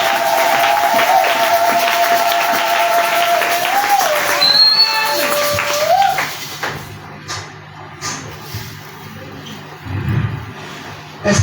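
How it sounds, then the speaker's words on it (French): A church congregation applauds and cheers in a lively burst while a sustained electronic tone rings over it, then the clapping thins into scattered bursts and quieter shuffling. "acclamez le Seigneur Jésus-Christ"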